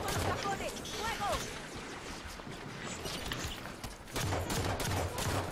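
Bursts of rapid gunfire in the Halo 5: Guardians campaign crackle in quick clusters against a busy layer of game effects, with a voice faintly present.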